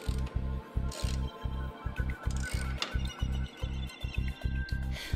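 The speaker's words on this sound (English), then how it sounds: "Put the inverter into position and tighten the screws." Screws are tightened to fix the angle brackets of a Powador 30.0 TL3 solar inverter to its housing and a wall, giving a steady run of close, rhythmic ratcheting clicks and mechanical whirring.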